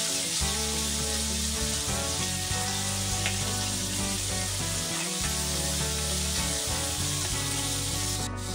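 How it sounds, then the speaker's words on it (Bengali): Khaira fish frying in a pan, a steady close hiss of oil that runs without a break from start to finish, with no talking. "মাছ ভাজা কিন্তু বসিয়ে দিয়েছি"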